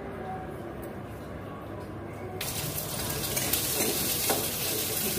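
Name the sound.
onions sizzling in pan for kofta curry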